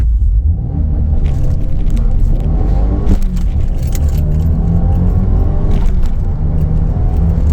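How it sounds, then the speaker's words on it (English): A 2023 Subaru WRX with a COBB Stage 2 tune launches under launch control with flat-foot shifting. A loud, close engine rumble builds, then breaks briefly at each quick upshift, heard from inside the car. "Launch control and flat foot shifting, here we go."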